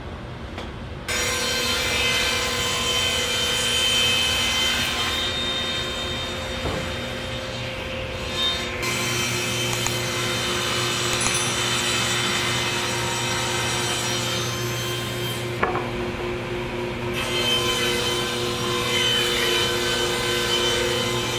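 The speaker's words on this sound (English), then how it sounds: "Got to cut a couple things down on the table saw, get them to the proper dimensions" Table saw cutting wooden boards to size for a bulk chicken feeder, a continuous loud whine with the blade biting through wood, shifting in pitch as cuts begin and end.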